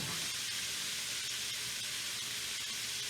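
Chopped onion sautés in a pan with a steady, broad sizzling hiss, constant and close throughout with no talking.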